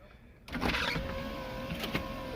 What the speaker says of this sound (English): Hey, the sunroof still works.